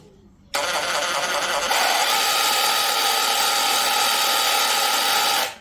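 A Parkside PKHAP 20-Li D4 cordless hammer drill, with a bit inserted, whirs up abruptly after a brief quiet moment and runs at a steady, loud, high-pitched whine for about five seconds before cutting off.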